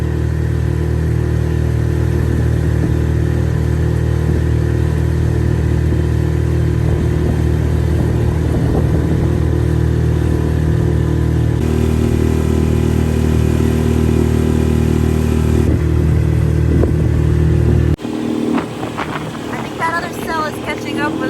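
A small 6-horsepower Yamaha outboard motor drones steadily and loudly on a boat, with wind buffeting the microphone, the engine pitch shifting partway through before the tone changes near the end.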